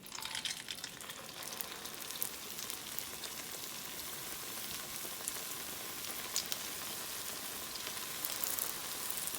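Spoonfuls of gluten-free eddoe fritter batter fry in hot oil with a steady, close crackling sizzle full of fine popping bubbles, even and constant throughout.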